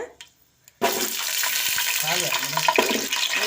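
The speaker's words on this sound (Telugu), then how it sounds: "మెంతులు భలే స్మెల్ వస్తుంది ఆయిల్లో ఫ్రై చేస్తుంటే" Fenugreek seeds frying in hot oil: a steady, close sizzle starts abruptly after a short quiet lead-in and continues, with faint voice-like sounds underneath.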